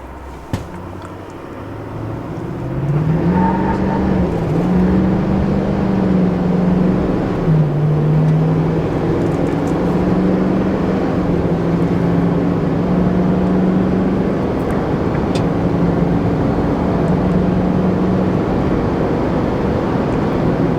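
A vehicle fitted with Banks Power Boost Tubes and a turbo inlet upgrade pulls out and accelerates, its engine drone rising in pitch and swelling into a steady, loud roar with wind rush that holds for around fifteen seconds.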